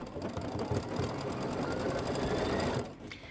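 An embroidery machine stitches a felt bunny embellishment in a fast, steady mechanical whir with rapid needle chatter, running close and continuous before slowing to a stop near the end.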